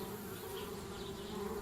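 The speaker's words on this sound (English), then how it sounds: "Darn bees, trying to move into our tree house." Bees buzzing steadily around a tree house in the adventure game Anna's Quest, a continuous droning hum with a faint background bed, no voices.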